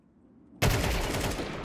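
Rapid gunfire from Counter-Strike 2 on the Dust2 map breaks out suddenly after near silence and keeps up as a dense, loud, continuous burst.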